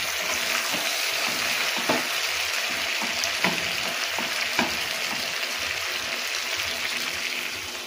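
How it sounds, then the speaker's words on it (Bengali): Chicken and potatoes in a pan for Bengali chicken curry sizzle and bubble steadily as water goes in, with occasional spoon scrapes and stirring clinks over a continuous frying hiss, close and moderately loud, no talking. "এবার আমি গামাখা জল দিয়ে দেবো।"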